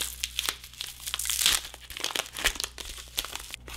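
Dry crinkling and crackling as a Bambu Lab AMS desiccant pack is carefully unfolded, a close run of irregular papery crunches and small tearing snaps with brief pauses between.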